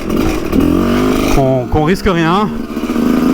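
A Sherco 125 two-stroke motorcycle engine is run at full throttle, its loud, raspy note climbing and wavering in pitch close by, while a rider talks over it.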